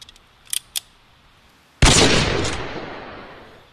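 A single loud gunshot fired outdoors while hunting mushrooms, a sharp blast followed by a long reverberating decay, preceded by a few faint clicks.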